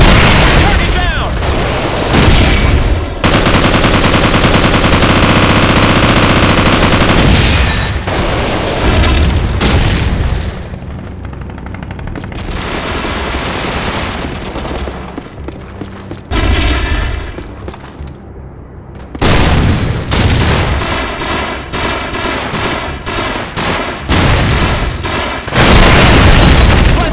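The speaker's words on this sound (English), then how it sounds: "Tossing stun grenade!" Call of Duty 4 on Wii: a dense run of gunfire and booming stun grenade blasts, with loud bursts and rattling automatic fire filling most of the stretch, broken by brief quieter gaps, with game voice callouts mixed in.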